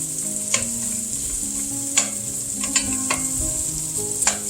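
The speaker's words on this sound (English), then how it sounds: "Now let's cook these onions over medium heat until they start releasing all those good flavors and caramelize some." Onions frying over medium heat in a pan, a constant close sizzle with a few sharp scrapes of a stirring utensil, no voices.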